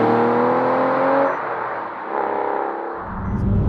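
A car engine from a multi-million pound collection purrs while driving, a smooth torquey hum that is loud and steady, dipping briefly midway before swelling again as the car wafts along.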